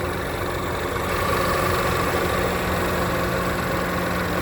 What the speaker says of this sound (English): shot it with the motor running